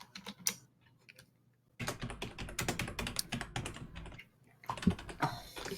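Rapid clattering keystrokes on a computer keyboard during a tabletop role-playing game session, arriving in quick bursts with short pauses, close and fairly loud, with no talking.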